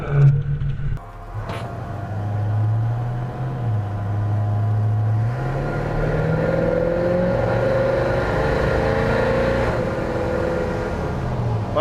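1939 Dodge Club Coupe hot rod with a 325 Hemi accelerating, its engine note rising steadily in pitch through a loud, sustained rumble heard from inside the car, with a few clicks at the start.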